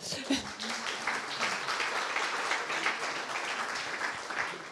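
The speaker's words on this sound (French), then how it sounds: "Je pense qu'on peut les applaudir déjà." An audience at an EdTech conference session claps in a fairly soft, steady round of applause, with some talking mixed in underneath.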